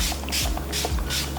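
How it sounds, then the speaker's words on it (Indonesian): A hand spray bottle of Studio Tropic priming water is misted over a face. Three quick, airy spritzes come at an even rhythm, close and crisp, over a low steady hum. "Dan aku akan semprotkan priming water ini ke seluruh wajah."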